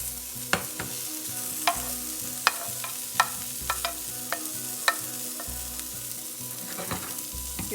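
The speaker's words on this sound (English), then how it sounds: "until you have that hissing sound, it means there's still some water within the substance of the garlic and the prawn" Prawns with garlic and butter frying in a hot pan, a constant close sizzle broken by sharp spatula taps and clicks at irregular intervals, over a soft repeating background melody.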